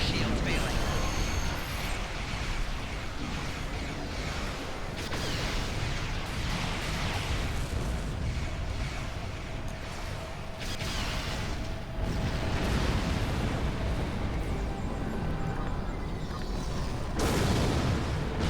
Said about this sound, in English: I died in the explosion.